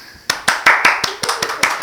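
Several pairs of hands clap in a quick, uneven burst, close and fairly loud, with sharp individual claps about five per second.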